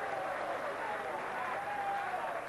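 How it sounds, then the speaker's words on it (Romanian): Dinamo Bucharest supporters applaud steadily in a stadium during a 6-0 lead against FCM Bacău, a dense, continuous wash of clapping from a large crowd at a moderate distance. "La 6-0, suporterii dinamoviști aplaudă și asemenea execuție"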